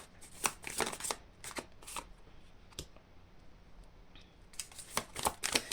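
Tarot cards shuffled for a reading in repeated quick riffling bursts, close and fairly quiet, with a pause in the middle before the shuffling resumes, no talking.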